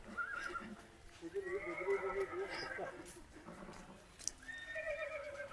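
Horses whinny several times at a moderate distance in a horse park at Almatti Garden, high quavering neighs rising and falling, with faint talk in the background.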